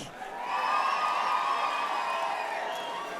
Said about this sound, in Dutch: Mag ik een heel groot applaus voor Duo Dick en ik?